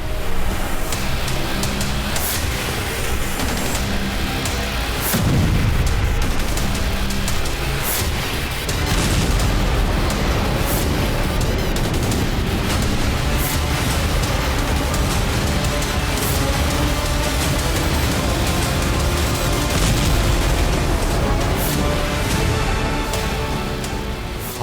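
Continuous loud rumbling blasts and booms from missiles and air-defence fire over Sevastopol, with repeated sharp explosive cracks over a dense roaring background, no talking.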